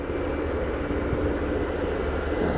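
A British Airways Airbus A320 airliner coming in to land at Aberdeen Airport, its engines a steady, fairly loud broadband roar that holds evenly throughout with no voices over it.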